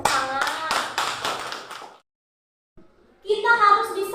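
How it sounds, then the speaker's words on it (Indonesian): A classroom of children claps hands together in a burst of roughly two seconds, with sharp repeated slaps and young voices mixed in, then a brief pause before more chatter and noise resumes. "Ya, tepuk tangan."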